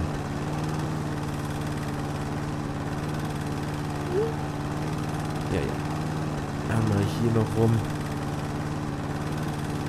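Lawn mower engine from the video game House Flipper drones steadily at an idle-like hum throughout, with someone talking in German over it.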